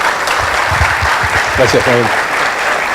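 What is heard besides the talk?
audience applause welcoming speaker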